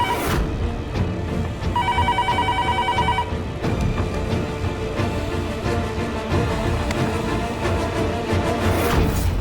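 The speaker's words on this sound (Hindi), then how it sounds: "कहीं पुलिस स्टेशन से ना फोन आया हो, राधिका का पता चला हो तो?" A telephone bell rings in a short burst of repeated trills, sitting over a dense, busy background of music and room noise.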